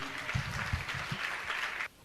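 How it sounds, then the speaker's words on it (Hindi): An audience applauds an honoree, Shri Dhanya Kumar Jinappa Gunde, at a Jain religious gathering; a short, steady burst of clapping that cuts off abruptly near the end, with some voices faintly under it. "आपकी तालियां तो भेजनी चाहिए"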